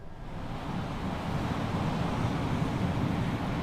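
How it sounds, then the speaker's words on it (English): Strong coastal wind at Nags Head ahead of Hurricane Dorian roars steadily and loudly across the microphone, a dense, unbroken rush with no voices. "still sunny, but very windy. The wind is picking up every single moment."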